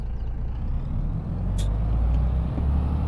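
A MAZ truck loaded with lime drives in Farming Simulator 22, its low diesel engine rumbling steadily, with a brief sharp air-brake hiss partway through.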